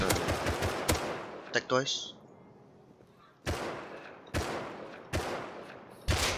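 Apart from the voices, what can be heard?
gunfire in the video game Rust during a PVP fight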